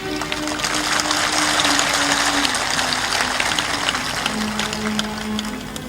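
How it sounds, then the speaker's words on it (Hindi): An audience at a Hindi spiritual discourse claps loudly and continuously, a dense wash of applause that holds steady for several seconds with a faint low hum beneath it and no talking. "तालियां जोर से बजाइए।"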